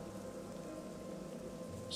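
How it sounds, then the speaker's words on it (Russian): Steady rain falls in the video game Morrowind with the Tamriel Rebuilt mod, a continuous even patter and hiss filling the whole stretch, moderately loud with no break. "Чудесно, дождь."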